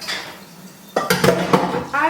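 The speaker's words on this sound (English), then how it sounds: "Let me get a pot so that I can make the sauce." A pot being pulled out from among unwashed dishes in a home kitchen, with a burst of loud metallic clanks and clinks from about the midpoint on, following a quieter stretch with faint talk.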